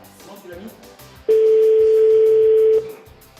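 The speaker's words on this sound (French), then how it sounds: "j'essaie donc de joindre Nadine Morano au ministère du Travail. Ça sonne" A telephone call to the French Ministry of Labour sounds a single steady ring tone of about a second and a half, loud and clear, with low background murmur before and after.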